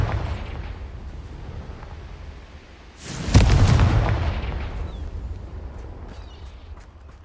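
A single loud magical blast from Bombarda and Confringo spells in Hogwarts Legacy erupts midway through a low rumbling game ambience, its burst decaying over about a second into a crackling tail.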